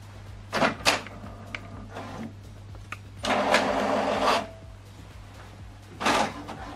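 An HP Deskjet 4120e inkjet printer prints a page, giving bursts of mechanical whirring and feed noise with clicks between them over a steady low hum, loud and close.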